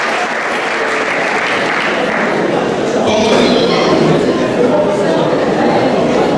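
Wedding guests at a Congolese wedding dinner in Brazzaville applauding the arriving newlyweds, loud sustained clapping from a packed room with chatter and clinks beneath, swelling a little halfway through.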